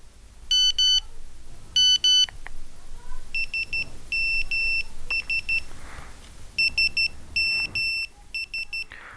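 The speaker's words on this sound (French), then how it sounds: "Là, vous avez un bip." Electronic tones from a Nokia 3410 mobile phone sound repeatedly: short, clean, high-pitched beeps and two-tone chirps in separate bursts, close and clear against a quiet background.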